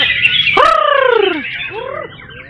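A caged white-rumped shama (murai batu), kept for song competition, gives loud, close sweeping whistled notes in two short phrases over faint background noise.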